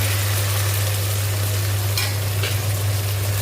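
Tomatoes frying in a pan for an eggplant curry, a loud, dense, constant sizzle up close with a low steady hum beneath and a couple of brief stirring scrapes.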